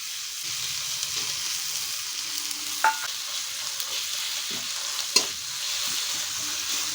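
Ginger garlic paste frying with a soft, steady sizzle while a spoon stirs, with a couple of sharp scraping clinks against the pan.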